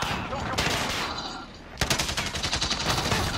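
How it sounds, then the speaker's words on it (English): Bursts of rapid gunfire crackle in quick succession, a short volley followed by a longer sustained rattle of shots. "Can my teammate stop shooting at me in the back?"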